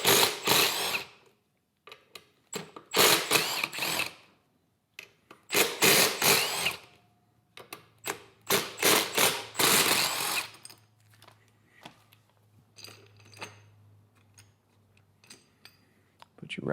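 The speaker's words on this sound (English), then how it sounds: "now we're ready to remove our riser bolts and dismount the stock bars" Handlebar riser bolts with 1/4 inch Allen heads are worked loose on a 2024-2026 Harley-Davidson Road Glide, giving bursts of close metallic clicking and ratcheting in several clusters, with quieter rustling and a low hum between them.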